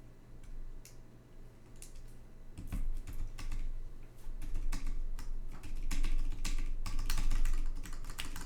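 Rapid, irregular clacky keystrokes on a rebuilt Rukia Works Korsa mechanical keyboard, close and fairly quiet, with a low steady hum underneath and no talk.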